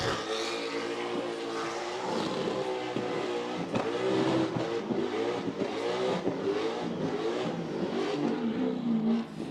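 A car doing a tyre-shredding burnout on the burnout pad at Summernats 33, its engine revving hard and close in a continuous, fluctuating howl with rising and falling pitch, loud and unbroken throughout.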